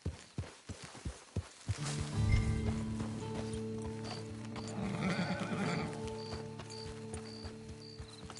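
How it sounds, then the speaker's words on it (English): A horse in a PS4 video game gives a loud whinny over steady clip-clop hooves, the footfalls regular at first, then blending with a low game soundtrack and ambient drone. "Get your horse."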